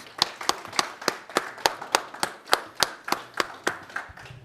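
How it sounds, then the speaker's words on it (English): A handful of people clap steadily at a church service in honour of the choirs, about fifteen sharp, evenly spaced claps over several seconds, fairly close and with no talking. "Let's give the choirs another round of applause, please"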